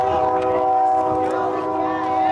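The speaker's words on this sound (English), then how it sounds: "train coming through" A passing train sounds its horn near a varsity high-school baseball field in Benson, a loud, sustained multi-tone blast that holds steady without a break.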